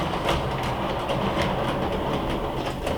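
An O gauge model train runs on a home layout, producing a steady, continuous rolling clatter with rhythmic clicks over the track, close and even in level throughout.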